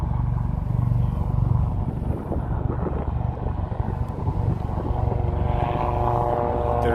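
A loud helicopter passes over New York City, its steady rotor thump and engine roar filling the scene continuously at close range with no talking.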